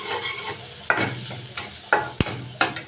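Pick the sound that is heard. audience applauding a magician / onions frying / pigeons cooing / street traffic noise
onions frying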